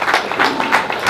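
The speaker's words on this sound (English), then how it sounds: "give yourselves a round of applause" A brief burst of audience applause at a film screening at the University of Ghana, steady and close, with claps running together throughout.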